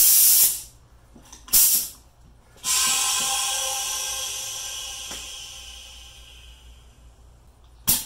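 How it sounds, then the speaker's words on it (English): Air from a compressor hose hissing into a pressure pot set to 70 PSI in a workshop: a few short sharp bursts, then a long steady hiss that slowly fades, close by. "All right, pressure pot, 70 PSI."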